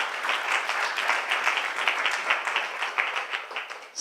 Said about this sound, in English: Please give them a round of applause for taking their time here.